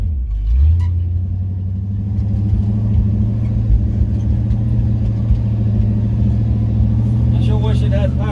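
A 1972 Chevrolet C30 truck's engine rumbles steadily at a low, loud idle-to-cruise drone while driving on a farm, with faint voices near the end.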